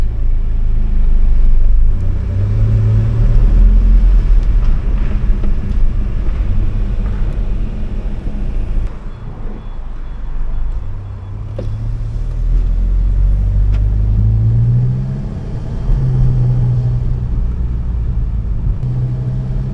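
A 385 BHP Volkswagen Scirocco R is driven at night, its engine a deep, loud cabin drone that swells and dips as the revs rise and fall, with no talking.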